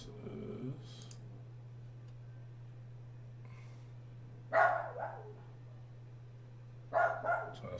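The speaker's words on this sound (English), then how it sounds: "When you won't let her in the room, she scratches and then she just starts barking." A pet dog indoors barks in two short bursts of a couple of sharp yaps each, with faint scratching or clicking at a door in a quiet room over a steady low hum.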